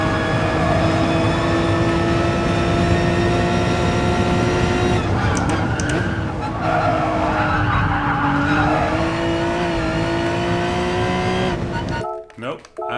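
Race car in the Gran Turismo Sport video game, its engine droning loud and steady before the tires squeal into a skid and the car strikes a wall, then the roar cuts off abruptly near the end.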